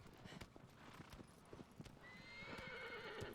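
A horse in Shadow of the Colossus (2018) gallops with quick rhythmic hoofbeats, then lets out a neigh near the end, all fairly faint.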